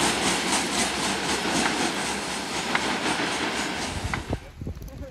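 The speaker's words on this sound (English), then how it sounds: "There goes the grand train." A freight train rumbles past on the railroad near Fostoria, a steady broadband roar with faint rhythmic wheel clicks that fades out in the last second, leaving brief bumps of handling noise.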